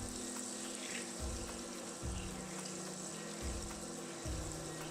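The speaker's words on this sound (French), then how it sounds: "Je fais fondre mes 20 g de beurre restant dans la poêle qui fait à peu près 25 cm." Twenty grams of butter melting over medium-low heat in a 25 cm frying pan, a soft steady sizzle and crackle running under a low repeating hum, with no talking.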